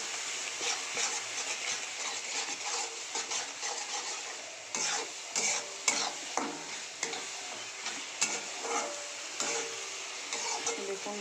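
Ground spices and chopped tomato sizzle in a pan while a spoon stirs them through, scraping in uneven strokes over a constant soft frying hiss, with no one talking.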